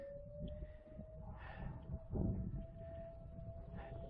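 A distant emergency siren in a rural setting sounds as a steady, faint wail that holds a single tone throughout, under low rumbling background noise.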